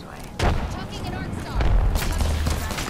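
Frag grenades exploding in the battle royale shooter Apex Legends, two heavy booming blasts about a second apart with rumbling tails, loud and close, amid in-game gunfire.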